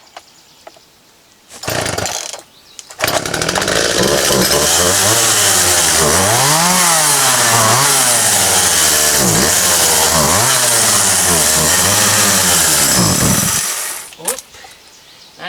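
A Ford 2N tractor engine cranks briefly, then catches and runs loud and close, its note rising and falling unevenly with choke adjustments before cutting out near the end.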